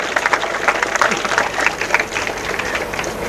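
An audience at a Tamil motivational speech breaks into dense, steady applause, many hands clapping close and loud for a few seconds with crowd murmur mixed in.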